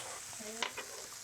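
Vegetables and onion thrown into a hot pan give a soft, steady sizzle, faint and brief, with a couple of small clinks.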